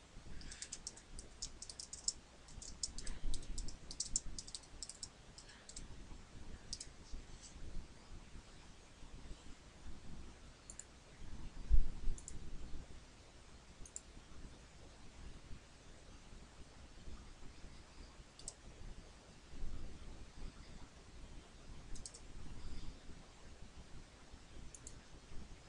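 Someone types a message on a computer keyboard, with soft, irregular key clicks close by in a quiet room and no voices.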